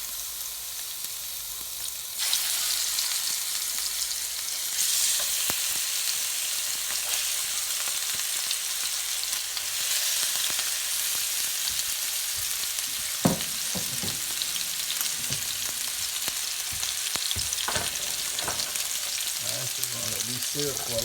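Lamb chops sear in a hot pan, a strong continuous sizzle that jumps up as the meat goes in, followed by scattered clinks and scrapes of turning and stirring.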